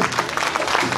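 Audience applause at a kindergarten year-end show as a Roman dance number begins: a short, dense burst of steady clapping from a crowd of parents, loud and continuous throughout.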